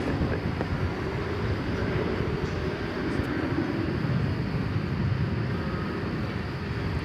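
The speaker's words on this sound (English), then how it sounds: "There goes the plane." Airplane passing at DFW Airport at night, a broad, steady roar with wind noise, moderately loud and unbroken for several seconds, no talking.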